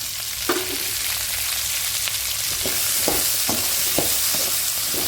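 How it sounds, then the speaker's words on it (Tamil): Onions, chillies and curry leaves fry in a pan with a steady, close hissing sizzle, broken by several short stirring scrapes and clinks, with no voices. "வெங்காயத்தை போட்டுக்கலாம். மிளகாய் கருவேப்பிலை எல்லாம் போட்டுக்கலாம்."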